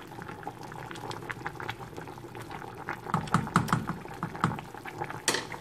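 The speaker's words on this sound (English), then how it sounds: "It's boiling." Zucchini soup with a few drops of olive oil boils in a pot, a close, steady bubbling with irregular pops and blips that grow busier toward the end, with no talking.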